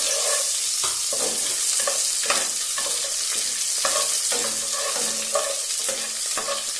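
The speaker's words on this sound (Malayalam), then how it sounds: "ഇനി അതിലേക്ക് കുറച്ച് വറമുളകും കറിവേപ്പിലയും ഇട്ട് കൊടുക്കുക" Dried red chillies and curry leaves hit hot oil with already popped mustard seeds while tempering tiffin sambar, giving a steady close crackling sizzle with scraping stir strokes throughout and no voices.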